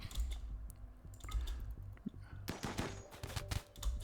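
Sporadic gunfire from RimWorld combat, sharp clicky shots scattered irregularly over a low hum, with a denser burst of cracks in the second half; no talking.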